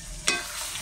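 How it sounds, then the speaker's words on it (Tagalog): Vegetables with fish sauce being stirred in a pan, a single brief scrape of the spatula against the metal, close and fairly quiet, over a faint sizzle. "Halo natin siya."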